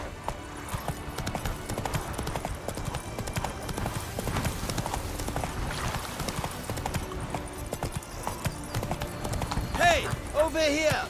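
Horse hooves clip-clop steadily at a gallop in The Witcher 3 video game, a continuous rhythmic pounding with a brief whinny-like cry and voices near the end.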